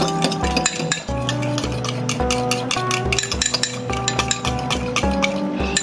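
Pasta salad is mixed in a bowl with a utensil, a continuous run of clinking and scraping against the bowl in a fairly quick, uneven rhythm, close and clear with no talking.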